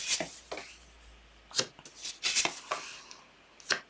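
Tarot cards are shuffled, slid and laid out on a surface in a series of soft, brisk swishes and flicks, close and quiet, with no talking.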